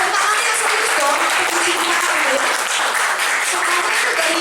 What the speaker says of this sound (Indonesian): tepuk tangannya serius dong.